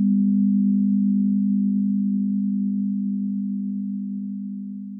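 A steady, low electronic tone made of 200 Hz and 250 Hz sine waves, held without a break and fading slightly toward the end.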